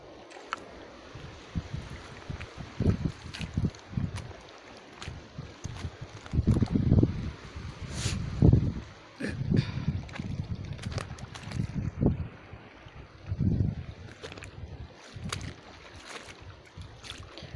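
Sea wind buffets the microphone on a coral reef shoal. Low gusts and water splashes rise and fall irregularly, with louder surges now and then and no clear speech.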